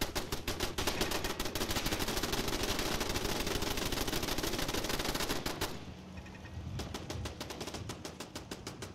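Rapid automatic gunfire in a video game as a player shoots at a wall, a dense continuous burst of shots that thins out and becomes more spaced near the end.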